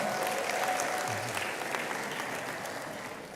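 A graduation ceremony audience applauds a new graduate with dense, continuous clapping from a full hall, holding steady and easing slightly toward the end, with no talk over it.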